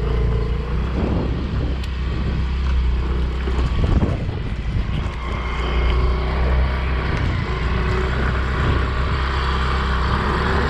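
A scooter engine labors up a dirt hill in Flores, Indonesia, a steady close drone with rumbling low end and bursts of wind buffeting the microphone throughout.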